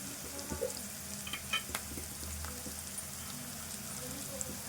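Onions fry in a pan with turmeric for a spicy chicken masala soup, giving a faint, low crackling sizzle. Scattered soft clinks and scraping from stirring rise above it now and then.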